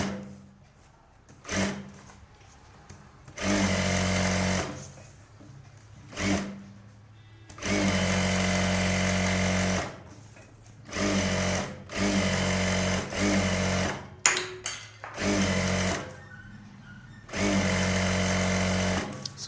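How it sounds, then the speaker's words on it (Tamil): A sewing machine stitches a blouse in loud, close bursts of rapid mechanical whirring. Each run lasts a few seconds and is separated by short pauses and small handling clicks. "சுற்றி 1/4 இன்ச்சு தள்ளி தையல் போடுறேன்"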